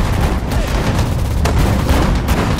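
Continuous battlefield din of gunfire and artillery in the real-time strategy game Sudden Strike 4, set at the Battle of Bataan: dense overlapping shots and booms at steady loudness, with a sharper crack standing out partway through.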